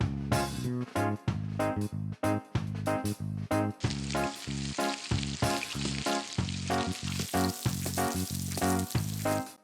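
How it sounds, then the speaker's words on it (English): Tomatoes fry in the Toca Kitchen cooking game with a steady, hissing sizzle, accompanied by bright, rhythmic tones that repeat in short, evenly spaced pulses from start to finish. "To fry the tomatoes."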